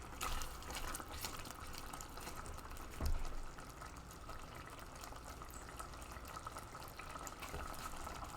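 Cold water runs steadily from a kitchen tap, a continuous splashing hiss with a brief thump partway through, close and moderately quiet.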